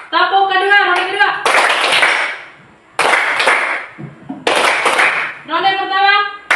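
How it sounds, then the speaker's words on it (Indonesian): Schoolchildren clapping a second-round rhythm in unison, loud crisp bursts of claps separated by brief gaps, with young voices chanting in between the bursts. "Tepuk kedua, ronde kedua."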